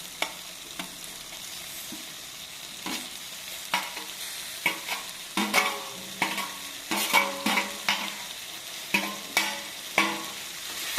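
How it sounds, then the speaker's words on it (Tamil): Curry leaves tossed into hot oil in a pan for chutney, a crackling sizzle under repeated sharp stirring scrapes that quicken toward the end, close up with no talking. "இப்போ கருவேப்பிலை போட்டுக்கலாம்."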